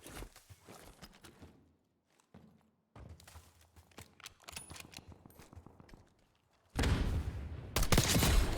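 Gunfire and movement from the battle royale game Warzone come as scattered sharp shots and quick bursts with footsteps between them, then a louder, denser stretch of noise near the end, with no talk.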